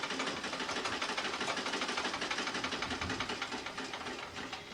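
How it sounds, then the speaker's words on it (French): Sewing machine running continuously with a fast, even mechanical chatter, fairly faint and alone, ending with a slight slowdown. "j'ai ouvert ma machine à coudre, j'ai réparé ma robe"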